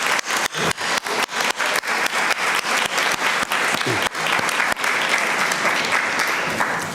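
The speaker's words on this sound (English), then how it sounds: "If you 4 can stand up, we'd like to give you a round of applause" Congregants at a Pride service applaud four people standing up, a dense crowd clapping with several sharp, close claps leading off, building to a sustained, full round.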